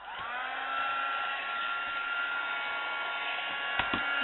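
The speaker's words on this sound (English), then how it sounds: "pop on your heat tool and give it a chance to warm up" A heat tool for candle craft runs with a steady, close blowing whir like a hair dryer, holding an even drone for several seconds, with a couple of faint clicks near the end.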